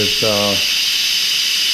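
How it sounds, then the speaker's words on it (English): Instant Pot pressure cooker releasing steam, a loud, steady high hiss running throughout, with a short burst of speech near the start. "This will take a little bit to actually release all of the steam."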